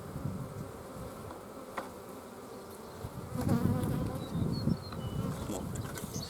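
Honeybees swarm around an opened hive, a dense continuous buzzing close by with fluctuating intensity and a few louder passes near the middle.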